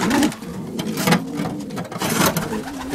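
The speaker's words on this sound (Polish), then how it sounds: "To jest gołąb, który przyleciał trzeci z tego Bergenu." Soft, low pigeon cooing repeats in rolling phrases over a steady mechanical whir, close by.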